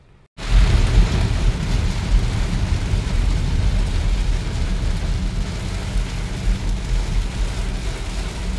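Heavy rain pours down in a dense, roaring wash that starts abruptly and stays loud and constant, with no voices.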